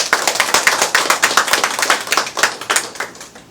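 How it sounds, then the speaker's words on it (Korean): An audience at a forum and appointment ceremony in Boryeong claps in welcome. The many close, crisp hand claps form a lively, fairly dense patter that stays strong and then eases slightly toward the end, with no talking over it. "이근규 총재님 큰 박수로 한번 환영해 주시죠."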